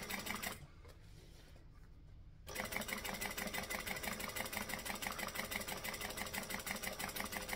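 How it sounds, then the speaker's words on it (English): A sewing machine topstitches fabric in a close, continuous whir. The stitch rhythm eases briefly near the start, then picks up again and runs steadily to the end. "I'm going to top stitch at 1/8 of an inch from the edge"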